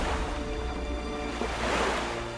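Rushing water from the Avatar: The Rise of Kyoshi visual novel game surges like waves or surf, a steady wash that swells briefly near the end.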